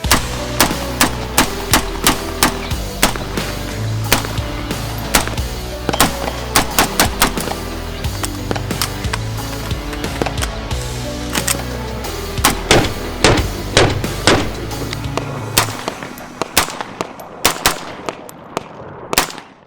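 Loud, close gunshots crack out in an open outdoor shooting range during a demonstration, firing in rapid irregular bursts and clustered volleys with short pauses, then trailing off into scattered single shots near the end.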